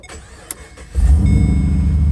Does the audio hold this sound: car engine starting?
yes